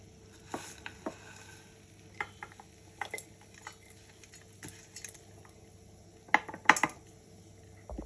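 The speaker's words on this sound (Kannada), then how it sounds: "ಸ್ವಲ್ಪ ತಣ್ಣಗಾದ್ಮೇಲೆ ಹುರಿದಿರೋದನ್ನೆಲ್ಲ ಜಾರ್ಗೆ ಹಾಕ್ಕೊಳ್ಳೋಣ, ಮಿಕ್ಸಿ ಜಾರ್ಗೆ." Roasted ridge gourd chutney ingredients are scraped into a mixer jar with a spoon. Soft scattered clinks, taps and scrapes come close and quiet, with a brief cluster of sharper knocks near the end.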